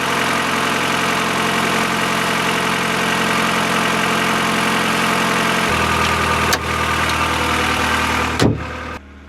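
A car engine idles after a cold start in cold, damp weather, following weeks unused, with a steady, slightly high-revving hum that drops in pitch partway through, close and continuous, ending with a couple of knocks.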